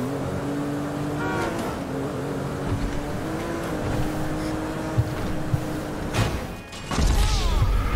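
A computer-controlled car drives in the GTA V video game, its engine droning with shifting pitch as it accelerates and slides, ending in a louder rush and rumble.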